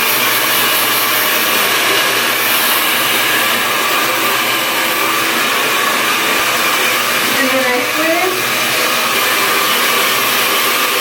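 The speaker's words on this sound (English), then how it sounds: "Now I'm gonna start drying my hair." Stylecraft hair dryer drying long hair flipped upside down, a loud steady whooshing blower roar running continuously without pause, with slight shifts as the airflow moves, no talking.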